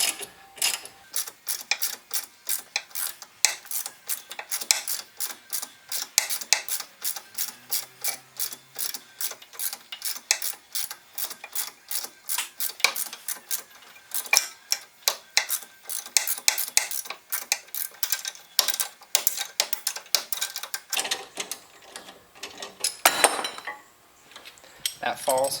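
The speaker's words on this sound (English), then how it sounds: "At some point you can just start turning the inner bolt." A ratchet clicks rapidly and continuously while turning the inner bolt on a 2010 Mazda3 front shock during a replacement. The metallic ratcheting runs close and steady for about twenty-five seconds, with brief pauses and some metal rubbing.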